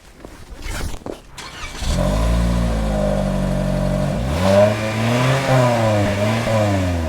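A 2023 Toyota Corolla non-hybrid with a 2-liter naturally aspirated, direct- and port-injected engine rumbles steadily and loudly after a brief clatter, its pitch rising as it accelerates partway through. No voices are heard.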